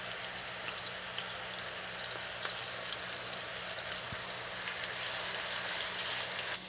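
Kabob patties and tomatoes fry in a pan, giving a steady, close sizzle with fine crackling and popping that holds at an even level throughout, with no voices.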